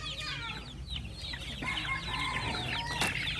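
Hubbard chickens clucking and squawking nearby, with overlapping busy calls from several birds and a brief crow-like cry, continuous throughout.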